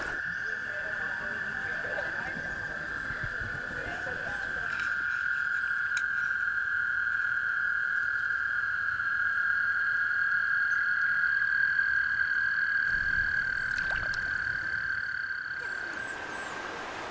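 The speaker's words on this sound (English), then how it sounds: "I know exactly where those toads are singing." Toads sing at vernal pools in a sustained, high, even trill that runs unbroken for the whole stretch. The chorus holds steady at moderate distance over faint outdoor background, with a few brief rustles.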